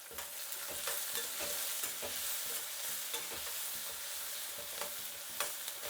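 Onions and curry leaves frying in hot oil with tempering spices, a steady dense sizzle with frequent stirring scrapes and clinks, close and continuous.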